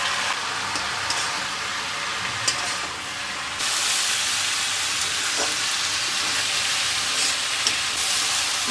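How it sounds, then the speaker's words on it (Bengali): Sliced snake gourd seasoned with turmeric and salt fries in a pan, giving a steady crackling sizzle that swells noticeably louder partway through and keeps hissing to the end, with no voices. "চিচিঙ্গাটা ভাজা ভাজা হয়ে এসছে"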